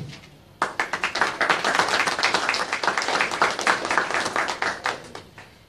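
Audience applause at a presentation starts abruptly after a quiet moment and continues as a steady burst of many hands clapping, close and fairly loud.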